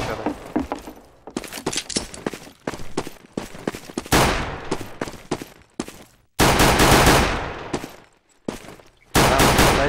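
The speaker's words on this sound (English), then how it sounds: "Wow, nice pistol sniping." Pistol gunfire in Counter-Strike: Global Offensive on a new map, sharp single shots fired in quick irregular bursts with brief pauses, loud and close, several heavier reports near the end.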